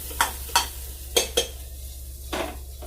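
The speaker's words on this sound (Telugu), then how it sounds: "తాలింపు అయిపోయిన తర్వాత మనం ఇలాగా పప్పు గింజ వేసుకొని" Lentils are stirred in a pan of hot oil tempering. Five or six sharp scraping strokes sound over a low steady background hiss.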